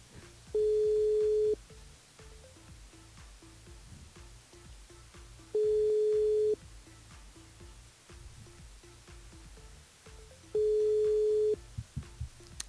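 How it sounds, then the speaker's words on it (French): Telephone call placed through a radio station switchboard, three long steady ringback tones at regular intervals over a faint line hiss, with no voices. "On appelle Alison sur le standard"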